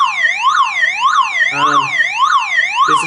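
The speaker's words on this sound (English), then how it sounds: "car security alarm" A Toyota Camry security alarm siren wails loud and near in a rapid rising and falling sweep that repeats about every half second, with a brief voice murmur partway through.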